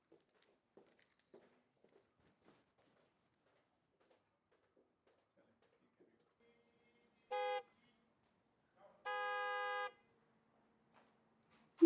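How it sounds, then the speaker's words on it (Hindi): A car horn honks twice, a short blast then a longer one, cutting through an otherwise quiet scene with faint scattered knocks. "ये कौन हॉर्न बजाए जा रहा है?"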